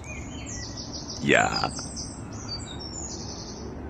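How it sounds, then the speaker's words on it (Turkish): Birds chirp and sing in a city, thin high calls over a constant urban hum, with one brief louder call in the middle and a person's voice heard faintly. "Ama alt tarafta kuş sesleri nasıl?"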